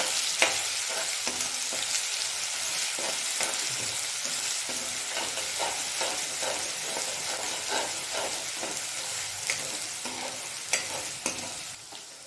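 Chopped ginger, garlic and two green chillies hit hot oil after mustard seeds have popped, giving a steady close sizzle and crackle throughout, with scattered sharper pops and spatters, no talking.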